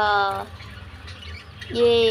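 A pair of yellow lutino budgerigars squawks in two harsh, rising calls, one at the start and one near the end, with a quieter, noisy stretch between them.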